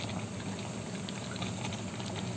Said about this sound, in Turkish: Burada tat köftemiz kaynıyor.